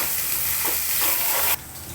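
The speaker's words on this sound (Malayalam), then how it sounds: "സവോള ഇട്ട് വാട്ടാം" Onions sautéing in oil with ginger, garlic and green chilli give a steady, loud, broadband sizzle and hiss close by. It drops abruptly in level near the end and keeps going alone, with no talk.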